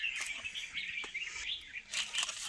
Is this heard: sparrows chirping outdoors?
yes